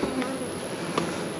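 Honey bees buzzing loudly and continuously at close range during a hive check, a dense droning hum with a few individual bees passing near.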